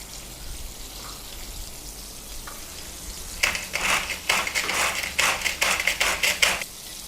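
Green chili and curry leaves drop into melted butter in a pan, setting off a loud, crackling sizzle with sharp popping bursts after a quiet stretch of low background hiss.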